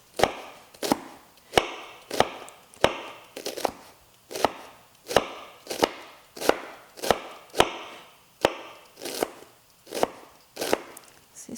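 Knife cuts red cabbage into very thin slices on a board, a steady series of about twenty crisp chops at an even rhythm, close and clear with no talk.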